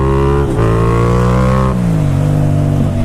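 A 600 Super Sport motorcycle in second gear at about 20 mph produces a loud, close engine drone that rises and falls in pitch as the throttle shifts.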